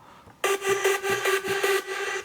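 Sudden bright buzzing synth layer called Hard NL, made in FL Studio for big room EDM, like an open saw wave: a loud, dense, sustained tone with a steady pulsing rhythm underneath, entering abruptly after a quiet moment.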